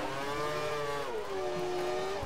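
A race car on worn-out tyres slides through a corner at the Malaysian Grand Prix in a racing video game. The engine drones in a steady tonal whine that dips and recovers, with no talk.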